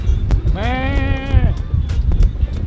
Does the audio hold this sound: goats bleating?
yes